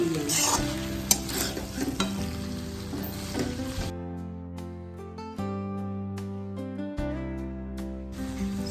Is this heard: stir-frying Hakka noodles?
yes